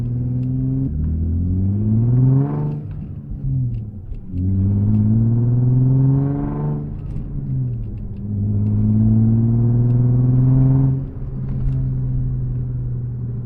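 Infiniti G35 coupe with a manual gearbox pulling away and accelerating through three gear pulls, each a loud, close engine drone rising in pitch and then dropping at the shift, with no talking.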